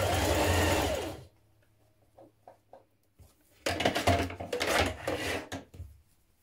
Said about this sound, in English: sew a channel across here so that you can thread your collar through it